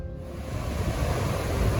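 Sea waves break on a beach as a broad, steady rushing wash that swells slightly, heard up close with a touch of wind buffeting and no talking.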